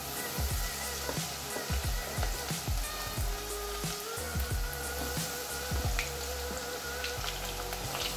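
Chickpeas (channa) frying in hot oil for a chilli channa fry, a steady loud crackling sizzle with repeated pops and spatters throughout, no talking.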